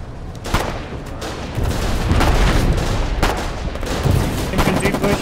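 Dense battlefield gunfire from the war game Foxhole during a tank push on Iuxta Homestead, with overlapping rifle and machine-gun bursts and distant booms forming a continuous loud barrage.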